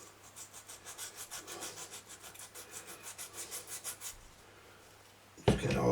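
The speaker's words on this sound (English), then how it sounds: "Let's get the sandpaper" Sandpaper scrubs back and forth over a part of a Philips EL 3514 tape recorder in a steady run of about two quick strokes per second, close and fairly loud, then stops before a sharp louder noise at the end.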